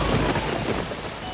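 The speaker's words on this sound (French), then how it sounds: "Ces coups de tonnerre font beaucoup de bruit." Thunder claps in a 1993 French children's TV episode roll as a loud, continuous deep rumble with a rain-like hiss, and no one speaks.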